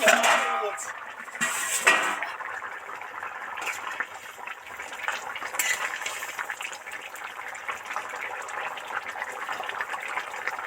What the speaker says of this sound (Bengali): ওদিকে তো টুকবুক টুকবুক করে ফুটছে